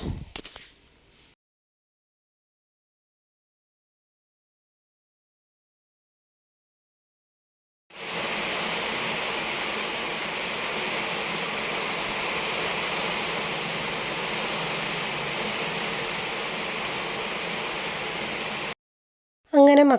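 Rain falls steadily outside a rural home in Kerala's Kuttanad region, a soft even hiss lasting about ten seconds between stretches of silence.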